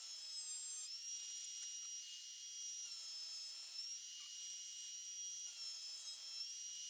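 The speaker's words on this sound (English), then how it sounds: "we're gonna use the electric planer because, well, we have one and it's faster" An electric planer works down a wooden board during candle-holder making, giving a thin, high-pitched motor whine that holds steady, dips briefly a few times and then rises again.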